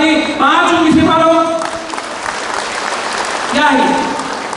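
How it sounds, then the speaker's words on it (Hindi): An audience claps in bursts while a loud voice speaks over the crowd, the clapping rising and falling in short rounds. "4 उंगली से मारो ताली, 5 उंगली से मारो"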